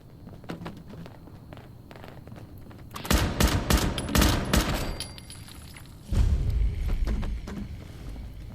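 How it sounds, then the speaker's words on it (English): A combat rifle fires indoors in the Fallout 76 video game: footsteps first, then two loud, close rapid-fire bursts with echoing room reverb, each lasting a couple of seconds. "I really like the way the combat rifle sounds indoors."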